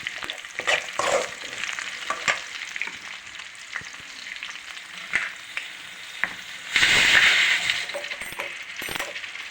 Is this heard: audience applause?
no